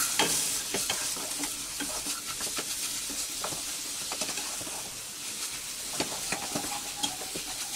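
Sugar is stirred into a mashed banana mixture in a pan, giving a steady close sizzle with repeated scraping and patter from the spoon.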